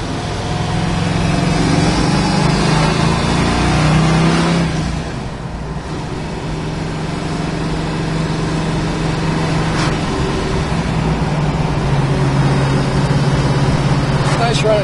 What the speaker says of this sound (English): Go for a little jaunt in our little Rally Green Camaro.